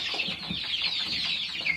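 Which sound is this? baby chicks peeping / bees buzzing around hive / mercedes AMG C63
baby chicks peeping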